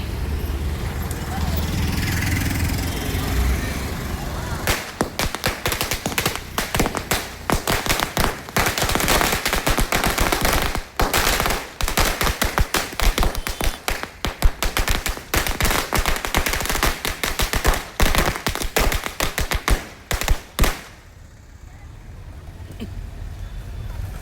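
Rapid, crackling bursts of firecrackers pop in a dense, continuous string for several seconds at a Diwali and Ayudha Puja celebration, loud and close, then cut off into quieter background noise.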